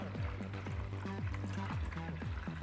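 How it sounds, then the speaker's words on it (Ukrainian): Water is poured from a garden watering can into the tray of a tile cutter fitted with an Intertool CT-3004 disc, a steady close trickle and splash running continuously. "такою садовою лієчкою я заливаю сюди воду"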